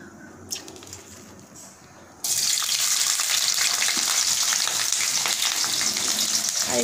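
Chopped garlic and onion frying in a pan, starting after a quieter stretch with a faint bird call, then a loud, steady, close sizzle that continues to the end.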